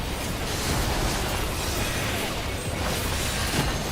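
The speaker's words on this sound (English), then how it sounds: "there's cannon fire on me too" Dense, continuous roar of cannon fire and explosions in the Rival Wings battle mode of a fantasy online game, a steady loud wash of booms and crackle with no clear gaps.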